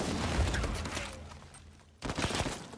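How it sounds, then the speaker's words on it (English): Rapid gunfire in Uncharted 4 multiplayer, a dense burst of shots, then a short lull and a second loud burst, up close in the game mix with no talk over it. "Ooh, gonna get some shots in."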